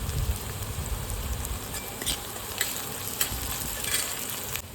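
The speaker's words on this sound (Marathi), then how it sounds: "पूर्णपणे कांदा लसूण मिरची भाजून झालेली आपलं" Onion, garlic and chili fry in a pan with a dense, rain-like crackling sizzle, loud and close, with a few light stirring scrapes.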